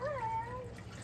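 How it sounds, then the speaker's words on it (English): A cat gives a single short meow in the background of a kitchen during Irish moss preparation, faint against a steady low hum and light water noise. "That's my cat Pluto."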